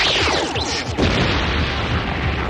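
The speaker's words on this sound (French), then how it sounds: "Kikagas nous tire dessus!" A cartoon explosion from enemy fire, with broadband bursts of boom and crash filling the whole stretch loudly and continuously, with a sharper hit near the middle.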